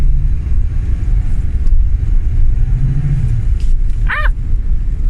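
1986 Fox-body convertible spinning out on a corner, heard as a heavy, rumbling engine with a low rising tire-like tone midway and a brief high squeal near the end, loud and close under wind noise.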